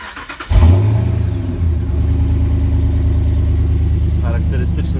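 A Dodge RAM 2500 pickup's 5.7 V8 Hemi cranks and catches, then settles into a deep, loud, lumpy rumble with slight revs, heard up close under some background talk.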